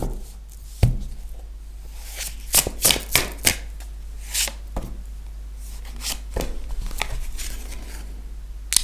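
Tarot cards being shuffled for a French reading, giving a series of quick papery riffles and soft slaps, with a sharp knock near the start, under steady low background hum and no talk.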